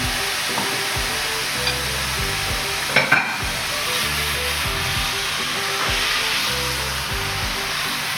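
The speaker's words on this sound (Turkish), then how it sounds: "gerçekten inanılmaz kızgın bir tavada 10 saniye çevirdik ve aldık" Beef for Philly cheesesteak sizzles and crackles loudly in a very hot pan, with repeated scraping stirs and a couple of sharp clanks partway through.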